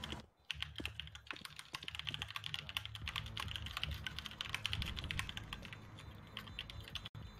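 Fast, continuous clatter of keys on a computer keyboard during an online shooter match, close and steady throughout with no voices over it.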